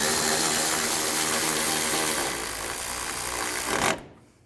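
A power tool whirs steadily up close while tightening radiator bolts on a GMC Yukon, a sustained buzzing drone that dips slightly midway and then cuts off abruptly near the end.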